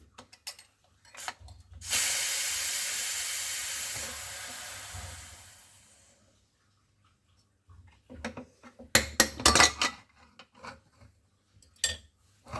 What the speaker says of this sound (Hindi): कुकर में 1 से 2 सीटी आ गई है और अब मैं इसकी स्टीम निकाल दूंगी